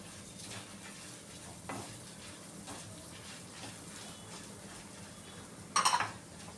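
Coriander seeds and urad dal frying in a pan over low heat for spicy Udupi ridge gourd dosa: a steady soft sizzle with light stirring, ending in a sharp metallic clink of a utensil against the pan.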